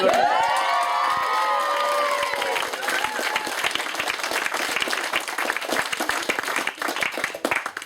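Wedding guests clapping and cheering for the bride at a reception, a loud crowd with whoops and high voices at first, then settling into dense sustained applause.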